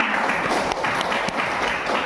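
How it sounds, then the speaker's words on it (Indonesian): Applause in a classroom or teaching session, steady dense clapping from a group of listeners running throughout, fairly loud and close. "Tepuk tangan."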